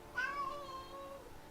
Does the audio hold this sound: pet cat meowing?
yes